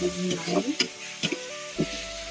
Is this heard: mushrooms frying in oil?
yes